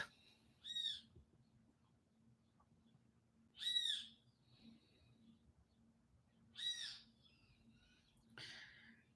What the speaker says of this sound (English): here's our bird friend ready to aggravate me